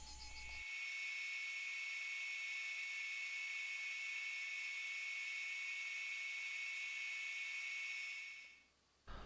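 A high-pitched electric rotary tool whines steadily as it carves a dense hardwood fishing lure, a vintage-style jitterbug, holding one sustained tone for about eight seconds before cutting off.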